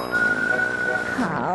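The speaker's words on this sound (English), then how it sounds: "Time to stall yet again with some whistling wiener dogs." A whistled melody dubbed over footage of wiener dogs in Barney's Super Singing Circus, with one sustained, steady whistled note running for most of the short stretch over a busy musical backing.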